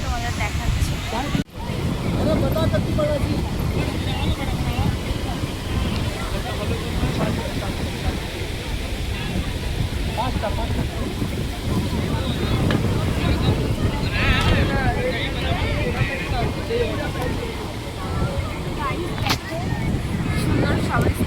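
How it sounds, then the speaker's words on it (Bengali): Strong wind buffets the microphone on the seaside beach at Digha, a constant loud roar mixed with the wash of surf, while voices talk faintly underneath. "প্রচণ্ড হাওয়া দিচ্ছে আজকে"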